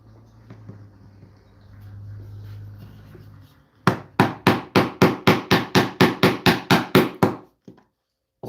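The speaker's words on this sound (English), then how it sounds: "I think I'm gonna grab a saw, give myself a couple of lines" A hand saw cuts short lines into wood for a guitar build, about fifteen quick, even strokes close up after a quiet stretch.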